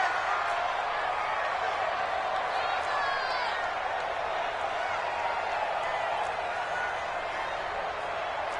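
Stadium crowd noise in a PS4 football video game, a steady, broad roar of many spectators that holds evenly for the whole stretch, with indistinct voices mixed in.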